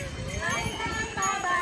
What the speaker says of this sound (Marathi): बैलगाड्या चालल्या मागून.